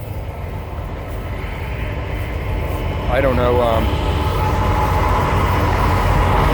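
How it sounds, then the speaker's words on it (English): A train passes on a railroad track as a steady low rumble building louder, with a brief horn-like tone midway; people talk briefly over it. "here's the train I'm talking about."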